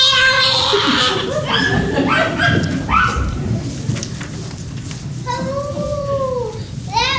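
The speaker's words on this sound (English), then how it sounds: "Oh, that wolf has a weird howl. That's not a wolf. That's that puppy again." A puppy howls in a wavering, rising-and-falling wail, with whimpering yips between longer howls, close and fairly loud amid a busy, noisy room with a voice nearby.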